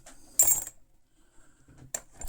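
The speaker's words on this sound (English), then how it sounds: "this box of old car keys and keys in general" A box of old vintage car keys, including old RAC keys, jingles in a short metallic burst, fairly close, followed by a quieter shuffle and another brief clink.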